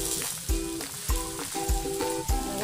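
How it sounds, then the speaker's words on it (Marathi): A cucumber paratha roasting on a hot pan, giving a soft crackling sizzle broken by five evenly spaced thumps and scrapes as it is pressed and turned, close and quiet. "एक साईड, दोन्ही साईड आपल्याला छान पराठा भाजून घ्यायचा आहे।"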